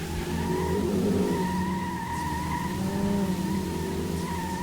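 A Ford Mustang races in the Dreamcast video game Metropolis Street Racer, its engine holding a loud steady drone with tonal whine and tyre noise, continuous and close with no pauses.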